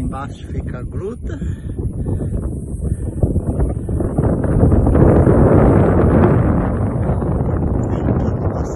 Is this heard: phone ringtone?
no